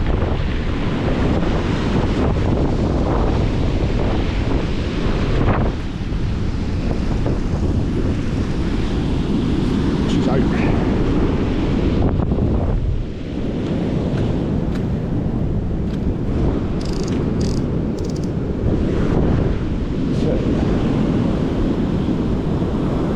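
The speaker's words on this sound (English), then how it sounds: "Flying up the beach these waves now as it's getting a bit more depth out there." Waves surge up a beach in deepening water, with strong wind buffeting the microphone throughout; a loud, continuous roar of surf with repeated washes and no speech.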